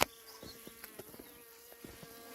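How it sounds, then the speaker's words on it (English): Defensive bees from a hive buzz busily close by, a high droning hum with small bumps and ticks as insects fly around. "a necklace of unhappy bees"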